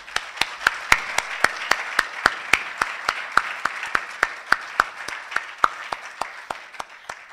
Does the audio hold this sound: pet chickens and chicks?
no